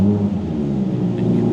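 A 2020 Audi R8 5.2 FSI V10 Performance engine idles with a steady low rumble and faint whir, continuous and fairly loud throughout, no voices.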